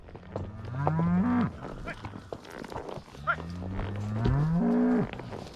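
Cattle moo loudly and close during a Montana cattle drive, two long drawn-out calls with fainter shouts and herding noise between them.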